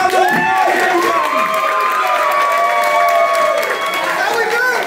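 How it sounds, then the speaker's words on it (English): Boxing sparring event crowd, loud and steady, with cheering, shouting and scattered applause filling the space alongside raised voices and chatter throughout. "Can we get a round of applause for that fight?"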